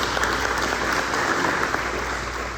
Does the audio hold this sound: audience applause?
yes